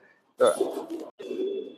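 Domestic racing and tournament pigeons coo in a low, warbling burst, pause briefly, then coo again, close by and moderately loud.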